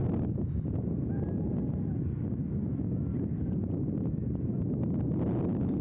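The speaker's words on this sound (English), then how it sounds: "So wind keeps going." Wind blowing steadily across an outdoor college baseball field, a sustained low roar and microphone buffeting that carries on for several seconds without talk.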